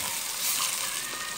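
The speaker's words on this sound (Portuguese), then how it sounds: "Daí a gente vai deixar fritar bem isso aí" Meat frying in a pan as the base for a lentil stew, a steady close hiss and sizzle of fat that holds level and continuous through the short moment with no voices.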